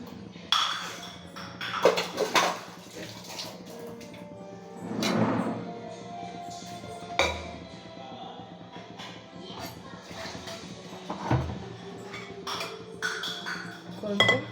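A spoon stirs paruppu kulambu with beans in a pot, making intermittent clinks and scrapes against the metal over a low background hum, with a few louder knocks.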